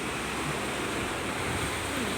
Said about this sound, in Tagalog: Kay sobrang lakas ng alon.